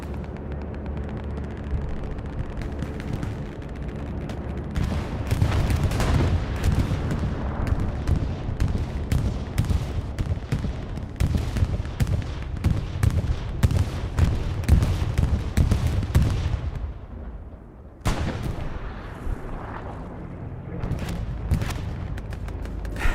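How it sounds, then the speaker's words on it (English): Axis bombing run in the World War II shooter Hell Let Loose on Juno Beach: loud, dense rolling explosions and heavy booms, clustered thickly, then a short lull and a few more blasts. "Got a bombing run coming over to the back, and this will be an Axis bombing run."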